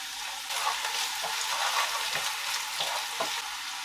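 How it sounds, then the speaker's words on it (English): Onions and garlic frying steadily in a pan for a Korean dish, a continuous close sizzle with faint stirring, no talking. "3 to 4 minutes frying onions with onions and garlic."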